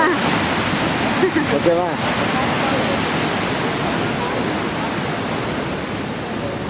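Water flows and rushes continuously at Muktinath, a loud broadband wash close by, with a brief spoken word over it early on.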